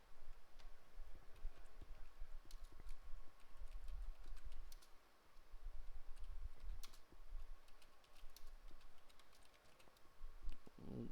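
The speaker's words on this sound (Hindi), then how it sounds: "जो भी आप टाइप करना चाहें बस डबल क्लिक करके टाइप कर दीजिए।" Typing on a computer keyboard, with a continuous run of light, irregular key clicks close to the microphone and brief pauses between bursts, with no voices.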